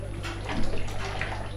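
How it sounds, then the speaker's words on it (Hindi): Water poured into a jug in a home kitchen for sharbat during Ramadan iftar prep, a steady close splashing pour over a low constant hum. "पानी डाल लिया है जब में।"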